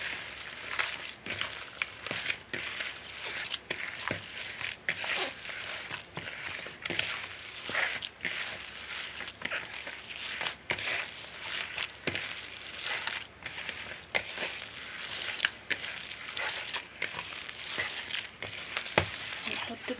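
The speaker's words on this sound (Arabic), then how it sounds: "حطيتهم على اللحمه ونقلبهم كده مع بعض عشان يخشوا في بعض. هنقلب بقى بايدينا" Minced meat for kofta kneaded by hand with chopped onion, tomato and pepper, giving a continuous wet squelching and squishing with frequent small slaps, close up and without talking.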